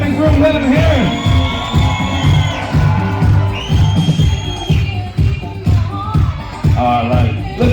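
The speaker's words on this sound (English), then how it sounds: "Come on, make some noise for our bride and groom." Wedding guests cheer, whoop and shout for the newly married bride and groom at a reception, a loud, dense crowd roar with whistles and voices rising and falling throughout.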